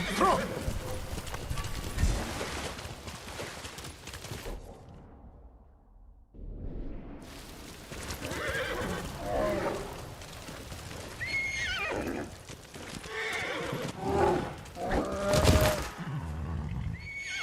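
A horse whinnies and hooves clip-clop amid busy game sound effects and whooshes, with voices talking over parts of it and a brief quiet gap early on.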